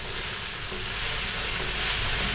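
Mixed vegetables with cumin and green chillies sizzling in a pan, a dense continuous hiss of frying that holds steady and swells slightly toward the end.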